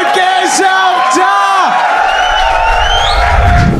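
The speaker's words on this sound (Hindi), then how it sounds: "Make some noise" A studio audience at a comedy talent show whoops, yells and cheers loudly for a contestant, long rising shouts over a continuous crowd roar.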